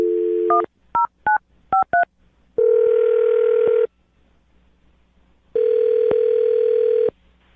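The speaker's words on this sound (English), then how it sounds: "let's find out right now by dialing his phone number and getting him on the phone" A telephone number is dialed: a quick string of touch-tone beeps, followed by two longer steady ringback tones separated by a pause, clear and close.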